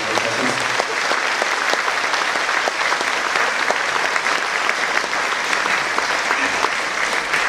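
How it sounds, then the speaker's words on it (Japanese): An audience applauds after a live Japanese concert performance, steady loud clapping from a full hall that continues without a break throughout. "もう一度大きな拍手を頂戴いたします"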